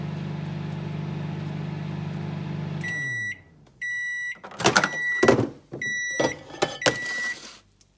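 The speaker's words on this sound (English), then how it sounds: "So, in the microwave, a couple of minutes, chill for a bit," A kitchen microwave oven runs with a steady low hum for about three seconds, then stops and gives a series of repeated high electronic beeps mixed with clatter of a door and handling, loud and close.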